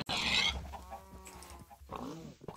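A chicken clucks in a Hypixel minigame, a Minecraft-style video game. Short clucking calls follow a hissy burst, fairly faint against a busy game background with no talk.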